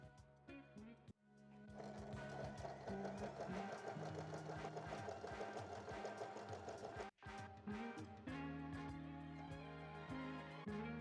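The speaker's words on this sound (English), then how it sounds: "Now I'm just gonna sew to take a little bit more of that armpit area" A sewing machine runs continuously, stitching across the armpit seam of a thrifted garment, its rapid needle chatter and motor hum close and steady, with a brief pause before it starts again.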